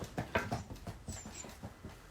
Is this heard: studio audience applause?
no